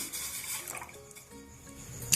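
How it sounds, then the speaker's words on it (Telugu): A glass of water pours steadily into a vessel for a couple of seconds, with a light splash near the end. "ఒక గ్లాసు నీళ్ళు పోస్తున్నాను"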